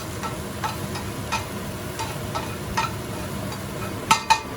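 Crispy rice cakes fry in a pan, a faint steady sizzle punctuated by light scraping taps of a utensil, with two sharper clinks near the end.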